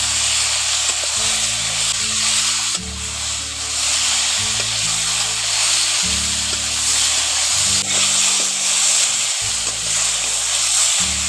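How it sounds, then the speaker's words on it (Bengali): Cucumber and potato pieces fry with salt and turmeric in a pan, giving a steady, loud, close sizzle and hiss that runs unbroken throughout, with occasional stirring scrapes and no talk. "লবণ হলুদ গুঁড়ো দিয়ে ভালো করে নাড়াচাড়া করে আরও কিছুক্ষণ ভেজে নিচ্ছি।"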